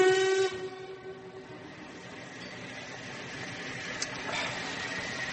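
A London train departing from a station in a radio drama, opening with a brief whistle tone, then a steady rumbling roll of carriages that continues faintly at a middle distance.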